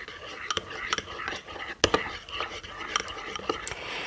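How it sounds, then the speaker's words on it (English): Light clinks and scrapes of a utensil stirring Worcestershire sauce into a remoulade-style dipping sauce in a bowl, irregular taps close by with faint whispery sounds between them. "So I'm just going to mix that all up."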